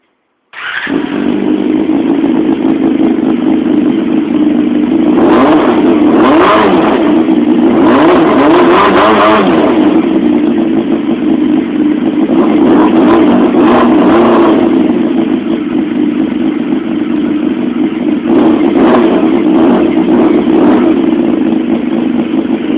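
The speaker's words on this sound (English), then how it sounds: "it revs a lot louder at idle and very much louder than the standard exhaust" A Honda CBR250 motorcycle with a loud aftermarket exhaust starts, then idles roughly between several sharp, screaming revs that rise and fall in quick bursts, close and very loud throughout.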